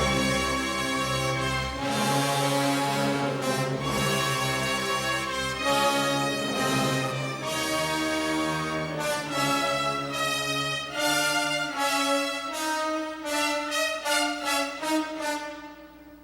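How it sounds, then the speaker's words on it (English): A full orchestra plays a harsh, biting theme built on dissonant minor seconds, loud and continuous with sustained chords that break into quicker repeated accents toward the end, no voices. "Now just listen to the whole theme now in the orchestra with all its bite and strength."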